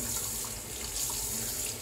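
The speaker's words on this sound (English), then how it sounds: "Sorry for the faucet, for you people that moan about the faucet." Water runs steadily from a bathroom sink faucet during a wet shave, a constant close splashing hiss with no voices.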